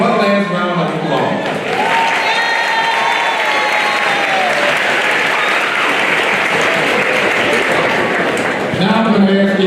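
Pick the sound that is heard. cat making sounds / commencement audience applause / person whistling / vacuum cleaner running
commencement audience applause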